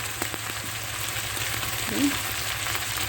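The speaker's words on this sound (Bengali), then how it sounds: "দেখেন মাথাটা আমি কষিয়ে নেবো ভেজে না ভেজে নেবো না কষিয়ে নেবো দেখেন কীভাবে কষিয়ে নিচ্ছি" A pangas fish head sautés in oil with salt, giving a close, steady sizzle and crackle with faint stirring taps and one brief scrape partway through, and no talking.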